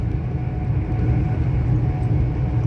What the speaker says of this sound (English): On the train going to Spain.